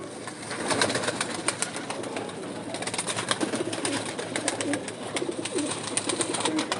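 Domestic pigeons coo steadily in a loft, soft throaty calls repeating through the whole stretch over a busy background of rustling and faint wing flutters, with no one speaking.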